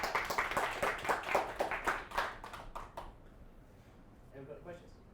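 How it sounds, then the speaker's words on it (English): A talk audience gives a round of applause in a hall: a dense burst of clapping for about three seconds that stops abruptly, followed by quiet room tone and a faint voice. "we give a round of applause, please?"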